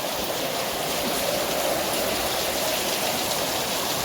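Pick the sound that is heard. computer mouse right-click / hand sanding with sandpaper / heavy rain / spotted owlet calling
heavy rain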